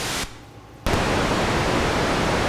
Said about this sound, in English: Now let's listen to the pink noise.